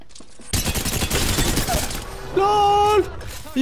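Rapid bursts of automatic gunfire crackle in a fast, dense rattle during an Apex Legends match, followed by brief tonal in-game alert chimes; loud and close.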